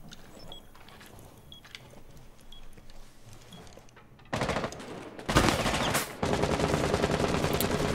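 Gunfire in the video game Rainbow Six Siege: quiet ambient game sound first, then sudden loud bursts of rapid automatic fire that continue to the end.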